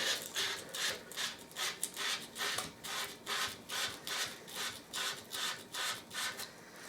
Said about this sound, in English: Now the sandpaper, put on the ferrule and spin with your hand.